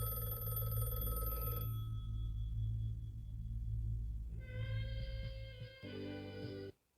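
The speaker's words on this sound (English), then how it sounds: "and the phone's ringing." An electronic telephone ring trills in bursts over a low droning background, its tone changing pitch before cutting off.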